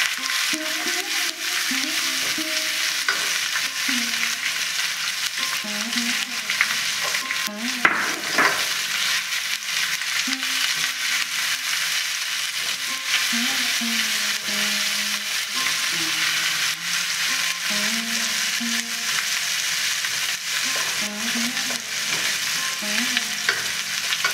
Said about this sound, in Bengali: এবার পেঁয়াজ আর টমেটোটা দিয়ে দিচ্ছি। পেঁয়াজটা খুব ভালো করে ভাজবো না